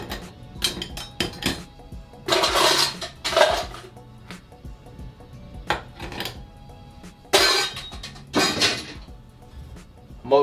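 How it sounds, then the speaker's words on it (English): Ice cubes drop into a glass of raspberry-garnished Roman gin and tonic, with a series of bright clinks and clatters in irregular bursts, some loud and close, separated by brief quiet gaps. "Add some ice on top of that."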